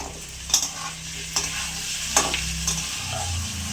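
Onions and cut potatoes fry in oil in a pan for ghugni, with a steady low sizzle. A spatula clinks against the pan four times at irregular intervals, close and fairly quiet, with no talking.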